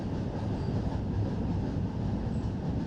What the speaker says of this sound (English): when I hit the brakes here, because we're going backwards, I'm going to use the train brake, the automatic brake